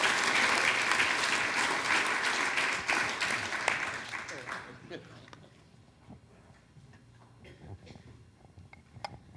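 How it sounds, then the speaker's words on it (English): A meeting audience at a sheriff's block leader meeting gives Bob a round of applause, loud for about five seconds and then quickly dying away to a few scattered claps and murmuring voices. "give him another round of applause for doing what he did"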